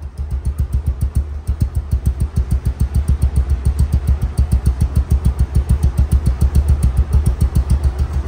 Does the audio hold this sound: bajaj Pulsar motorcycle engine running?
yes